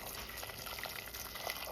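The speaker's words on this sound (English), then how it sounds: "So I go grab the kettle and pour off the water in it." Water poured from a kettle in a home kitchen while cooking Jamaican callaloo and saltfish, a soft continuous splashing stream that stays steady and fairly faint, with no talking.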